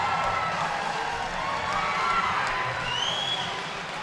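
A boxing crowd at the Paramount arena cheers and roars continuously, a loud, electric wash of shouts and whoops between rounds of a main-event fight.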